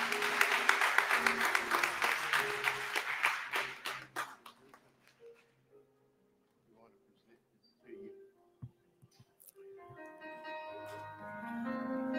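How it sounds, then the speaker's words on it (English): An audience at a school Founder's Day awards program claps loudly for several seconds and the applause tapers off, followed by quieter sounds and then tones near the end. "Why don't you give hand clap of praise."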